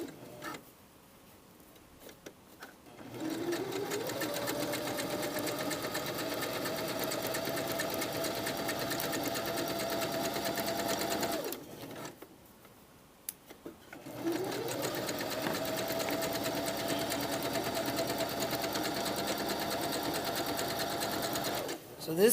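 A sewing machine runs a plain zigzag stitch on swimsuit elastic in two steady, continuous bursts of whirring, ticking motor, each lasting several seconds, with quiet gaps before, between and after.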